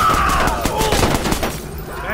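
Gunfire in the Watch Dogs action game: a quick burst of overlapping shots and cracks over a dense battle din, loud and close, with voices mixed in.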